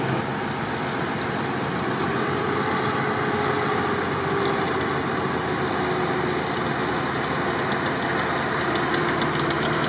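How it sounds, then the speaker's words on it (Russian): A Nissan Patrol off-road vehicle drives through a swampy off-road course, its engine giving a continuous, fairly loud low rumble with a throbbing mid-range drone that barely varies, nearby and without speech. "Да, патрол едет."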